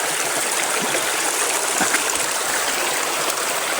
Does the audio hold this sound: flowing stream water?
yes